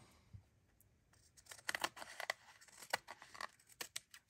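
Scissors snip lace trim hanging over the edge of a handmade Christmas journal, a run of close, crisp cuts that follows a brief quiet start.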